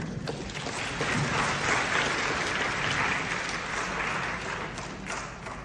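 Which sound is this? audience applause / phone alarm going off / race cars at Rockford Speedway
audience applause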